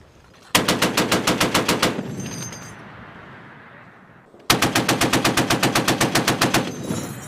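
Marines firing a .50 caliber machine gun in Afghanistan: two loud, close sustained bursts of rapid, evenly spaced heavy shots, separated by a couple of seconds of rumbling echo, with no talking.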